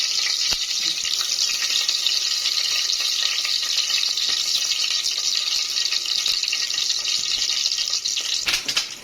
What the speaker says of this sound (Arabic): كبات دلوقتي البصلايه احمرها